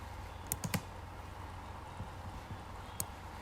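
A computer mouse clicks quietly, a quick cluster of three clicks followed by a few scattered single clicks, alone in a hushed room.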